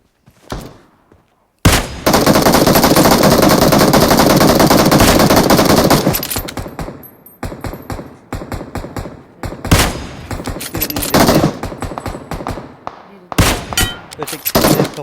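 Automatic gunfire in the mobile battle-royale game PUBG Mobile: after a faint opening, a loud sustained burst runs for about four seconds, then continues as scattered short volleys and single shots.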